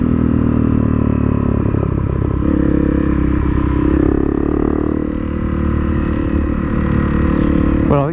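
Honda CRF250L dual-sport motorcycle riding a forest trail in the Trossachs, its engine droning steadily close by throughout with rumbling, clattering texture from the rough track.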